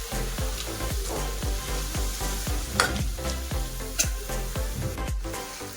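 Chopped tomato stirred into spices frying in a pan for tomato saaru, a steady sizzle broken by regular scraping strokes of a spoon, close and continuous with no talk.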